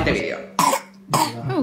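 Two sharp, close coughs in quick succession, each a brief harsh burst with a little voiced tail.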